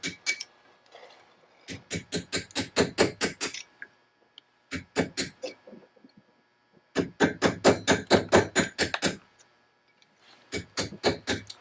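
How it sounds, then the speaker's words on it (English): Tungsten carbide carving tools are struck against Belgian black marble in fast bursts of sharp, ringing taps, each run of strikes steady and close, with short pauses between. "And these are some of the tools that I use to carve on the marble."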